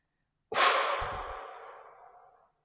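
A single long, audible exhalation, blown out in a guided breathing exercise, starts abruptly and fades gradually over about two seconds, close and alone.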